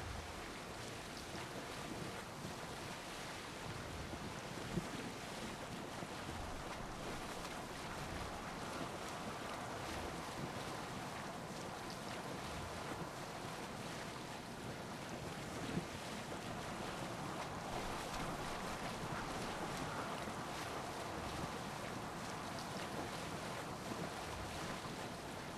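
A sailing boat cuts across open water in Assassin's Creed Odyssey, with a steady, continuous wash of waves and wind rushing past the whole time and nobody talking.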